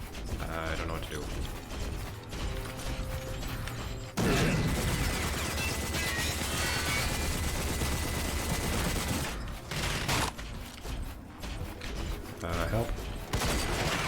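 Shooting in the game Rage against a large enemy, sustained loud gunfire and mechanical clatter that jumps up sharply partway through, with brief breaks and voices calling out over it.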